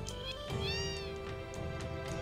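Cats meow in a small room in Wutai in Final Fantasy VII, with several clear, close, tonal meows in quick succession and no talk.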